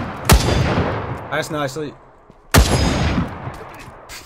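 Two sharp, loud gunshots ring out in the survival shooter Will To Live Online, the first near the start and the second a couple of seconds later, each with a decaying tail; a brief spoken phrase falls between them.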